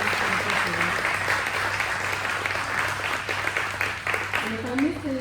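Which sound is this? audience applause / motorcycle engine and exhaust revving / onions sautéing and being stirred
audience applause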